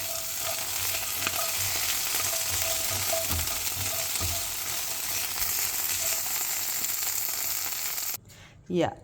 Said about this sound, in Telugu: కొంచెం ఆయిల్ వేసుకుని గార్లిక్ కూడా వేసేస్తున్నాము